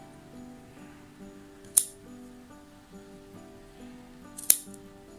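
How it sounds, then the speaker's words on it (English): Scissors snipping excess material from a wrapped craft stick, two sharp crisp cuts a few seconds apart against a quiet background with faint humming music. "then I'm just gonna cut the excess off"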